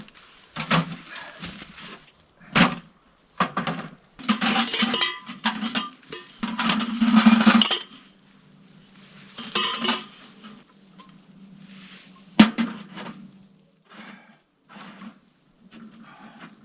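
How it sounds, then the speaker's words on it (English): Camping stove parts for a hot tent clank and rattle in scattered bursts as the stove is set up, metallic knocks and scrapes at close range separated by quiet gaps. "time to get the stove set up"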